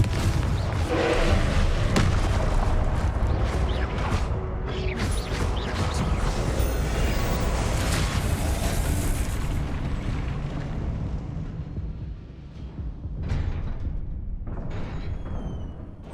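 A Confringo fire spell explodes in Hogwarts Legacy: a loud, dense burst of roaring, crackling rumble fills the scene and sustains for many seconds. It thins toward the end with a few sharper late hits.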